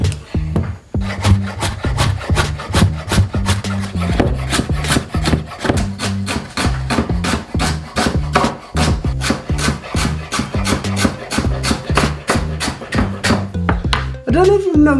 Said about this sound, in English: I'm slicing these quite long. Same as the carrots, same as the onions.